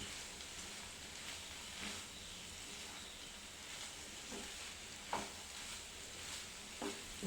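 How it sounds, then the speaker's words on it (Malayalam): Dry fruits and nuts are stirred together in a hot frying pan, giving a steady close sizzle and hiss with a few soft scraping knocks from the spoon, and no talk. "ഇനി എല്ലാം കൂടി നല്ലപോലെ ഒന്ന് ഇളക്കി യോജിപ്പിച്ച് എടുക്കണം"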